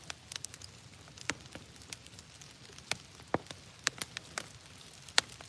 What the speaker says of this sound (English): Starting to rain harder.